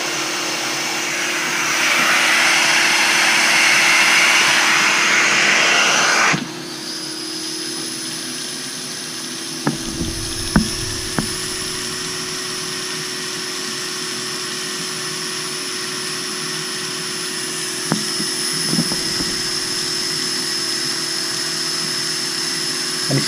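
Carpet extractor drawing cleaning solution back out of urine-soaked carpet: a loud rushing suction roar for several seconds, then a steadier, quieter motor whine with a few sharp knocks and gurgling slurps as it passes over the carpet.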